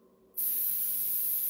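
A spray bottle mists a 50-50 mix of ink and 70% rubbing alcohol onto mini pumpkins being painted. It starts as one sudden, loud, steady hiss that holds without a break to the end.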